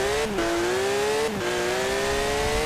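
Race car engine with a sequential racing gearbox in Forza Horizon 4, droning at high revs with two quick upshifts that briefly drop the pitch, steady and loud throughout.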